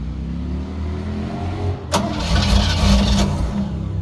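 A 1953 Ford 4x4 truck engine is cranked and catches. Steady low starter churning runs for about two seconds, then the engine fires with a sudden burst and settles into a loud, rough, rising run, close by.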